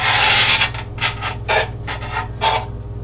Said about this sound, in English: My pan and my spoon are quite noisy.